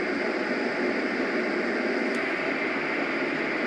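A Roffie N600 white noise machine playing a fan setting gives out an unbroken, even broadband hiss, steady and near with no pauses and no voices.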